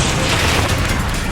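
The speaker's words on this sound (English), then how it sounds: "This cannon shot has been 20 years in the making." A cannon fires at a biker saloon celebration for Sturgis' 70th anniversary, a loud sustained broadband roar filling the short moment without pause.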